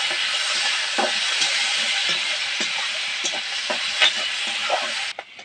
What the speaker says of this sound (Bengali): ছোলার ডাল দিয়ে দেবো বিউলির ডাল দিয়ে দেবো একটু নাড়াচাড়া দিয়ে নেবো